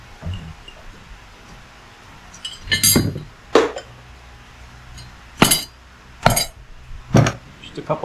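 A piston is tapped into place during a PTO clutch rebuild on an IH 2400A tractor, five sharp metallic knocks spaced irregularly over a quiet workshop background, close and fairly loud.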